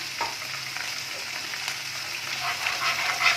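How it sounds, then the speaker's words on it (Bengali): Ginger-garlic paste sizzles and crackles steadily in hot oil over a high gas flame in a pepper garlic chicken fry, with occasional scraping stirs, close and continuous without talk. "অল্প একটুখানি আমি আদা রসুনের পেস্ট দিয়ে দিচ্ছি"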